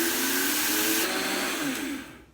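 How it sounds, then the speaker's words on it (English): A blender grinds golden flaxseed into flour, a loud whirring motor roar that shifts pitch partway through as the seeds break down, then winds down and fades at the end. "I'm gonna turn the blender on and I make flour out of it"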